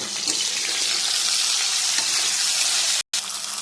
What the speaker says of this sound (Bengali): পাশে আমার কাঁকরোল ভাজা হচ্ছে,